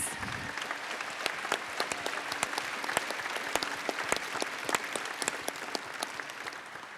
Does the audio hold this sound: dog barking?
no